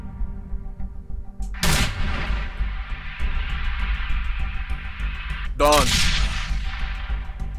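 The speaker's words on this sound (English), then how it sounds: "I expect a bigger explosion though" In the shooter game Sniper: Ghost Warrior, two sharp blasts ring out, each a loud boom with gunfire crack, over a steady rumbling game soundscape, with a brief spoken word between them.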